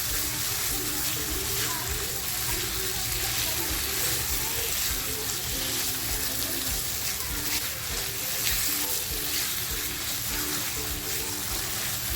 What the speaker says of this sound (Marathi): ह्या मसाल्यामध्ये छान फ्राय करून घ्यायची